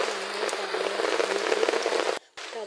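Heavy rain pours steadily onto surfaces in a rural village setting, a dense, continuous patter that cuts out briefly near the end before resuming.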